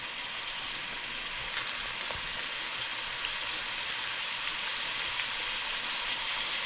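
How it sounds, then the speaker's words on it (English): Saltfish and callaloo fritters frying in a pan, a steady, even sizzle of hot oil that holds at a constant level throughout with no talking. "So we're just allowing both sides to fry."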